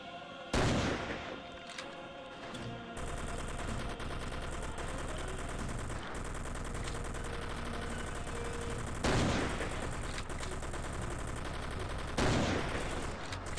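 Sustained automatic gunfire from the Xbox game Commandos: Strike Force rattles on continuously, punctuated by several heavier loud bursts, with no talk over it.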